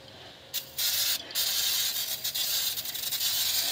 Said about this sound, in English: Brake cleaner to make sure no grease, fingerprints, whatever got on there.